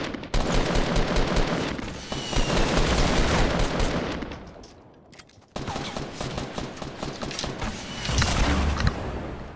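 Rapid gunfire blasts from a shotgun in the video game Fortnite, a dense loud volley of shots that briefly drops out before another burst resumes.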